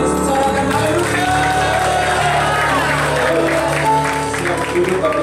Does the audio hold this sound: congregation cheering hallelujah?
yes